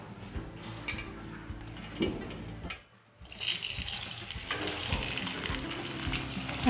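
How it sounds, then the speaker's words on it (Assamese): Elephant apple pieces fry in hot oil for a pickle. A continuous crackling sizzle fills the clip, with a brief dip near the middle before it resumes, close and moderately loud with no talking. "মোৰ তেল গৰম হৈ গৈছে। ইয়াতে মই এতিয়া ঔটেঙাখিনি দি দিছোঁ।"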